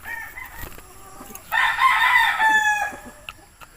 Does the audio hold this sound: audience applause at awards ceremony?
no